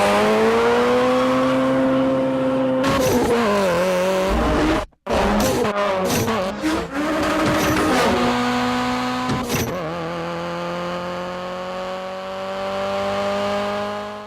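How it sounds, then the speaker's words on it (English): Loud engine note from a supercharged Honda CRX and a drag-built turbocharged Acura Integra, held at steady pitch with a sharp cut and gear-change dips midway, then a long sustained drone. "The sounds we hear in the film come from a supercharged Honda CRX and a turbocharged Acura Integra that was built for drag racing."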